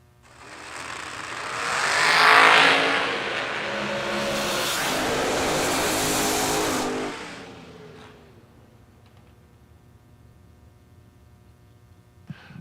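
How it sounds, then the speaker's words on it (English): A pair of drag racing dragsters, one a Pro Charger diamond chassis car, launch and roar down the strip in a loud surging burst that fades as they pull away into the distance. "that diamond chassis dragster"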